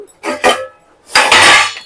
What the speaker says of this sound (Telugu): ఇక్కడ గిన్నెలు అయితే బయట వేస్తున్నాను